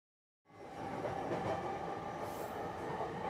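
After a moment of silence, an express train's steady rumble begins abruptly and continues evenly at moderate level, like riding inside a carriage.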